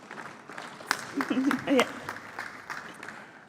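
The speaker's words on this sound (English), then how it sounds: "Let's welcome her with a round of applause" Conference audience at a main room of a business summit giving a modest round of applause for a speaker, scattered claps fairly soft and a bit distant, with a short spoken word over it.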